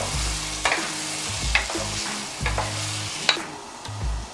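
Cooked gizzard being stirred in a hot frying pan for jollof spaghetti, a steady sizzle with a few sharp utensil scrapes and taps against the pan.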